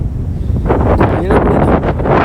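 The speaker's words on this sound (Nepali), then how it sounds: "यहाँ चाहिँ अहिले चाहिँ शीतल हावा चलेको छ" Steady wind gusts buffet the microphone outdoors on an evening walk, rumbling low and continuous, with faint rustling and muffled voices in the background.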